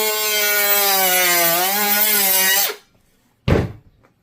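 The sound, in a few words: high-speed rotary tool cutting through plastic toy packaging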